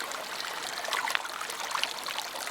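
A hiking-trail stream of water flows steadily nearby, a continuous bright trickling and babbling with no pauses.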